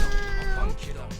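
A cat meows briefly in Katamari Damacy REROLL, a short clear mew over the game's music, with a voice talking alongside.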